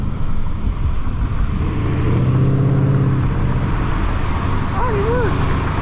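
Little blue Ford Mustang revving its engine at a car meet, a loud engine rising and falling under people talking nearby, with road traffic noise around it.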